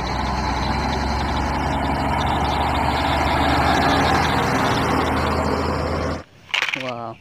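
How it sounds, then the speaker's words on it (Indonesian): Toy or game trailer truck engine idling: a steady, loud, rumbling drone for about six seconds that cuts off abruptly, followed by a short burst of voice. "Wow, di sini ada truk trailer."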